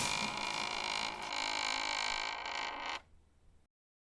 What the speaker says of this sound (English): he suddenly heard the front door creak open